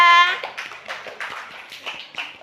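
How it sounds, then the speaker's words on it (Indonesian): A classroom group claps for group 3 after a presentation on grasshopper metamorphosis, a brief scattered patter of hands lasting a couple of seconds. "Tepuk tangan untuk kelompok 3."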